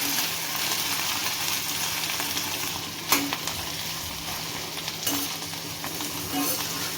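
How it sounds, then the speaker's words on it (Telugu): Okra pieces frying in an open pan produce a continuous close sizzle, with two distinct clanks of a spatula against the pan and light stirring scrapes, no voices. "బెండకాయ ఫ్రై చేసేటప్పుడు మూత పెట్టిన అవసరం లేదండి."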